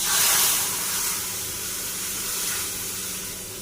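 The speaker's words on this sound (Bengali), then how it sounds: "এবার দিয়ে দেব কড়াইয়ের মধ্যে দুধ।" Milk poured into a hot wok after frying, giving a loud steady hiss and sizzle close up that gradually eases slightly toward the end.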